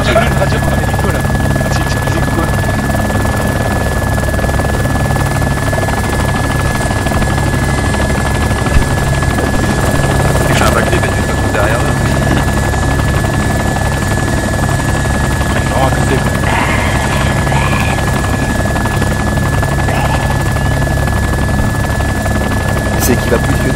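Helicopter in the video game DayZ: a steady, loud rotor drone runs throughout, with voices talking over it.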